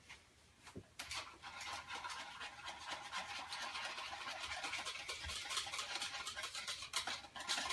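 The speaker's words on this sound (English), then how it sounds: "She knows when I'm whisking up my color." Hair color mixture being whisked briskly in a bowl, a fast, faint, rhythmic scraping and tapping that starts after a brief pause and runs on steadily at close range.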